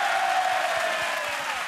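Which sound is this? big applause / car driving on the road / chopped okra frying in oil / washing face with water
big applause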